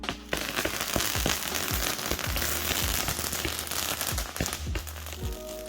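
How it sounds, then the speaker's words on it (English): Dense crackling bursts and sharp pops from backyard Fourth of July fireworks go off in rapid succession, a steady fizzing patter with scattered louder bangs, no talking. "Firework was so nice that we had to do it twice,"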